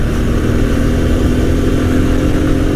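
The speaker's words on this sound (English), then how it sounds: "This motorcycle just pulls really hard and fast." A TVS Apache RTR 160 2V, a 2020 BS6 160cc single-cylinder four-stroke motorcycle, accelerating hard with a loud steady engine drone rising gradually in pitch, close and continuous with no talk.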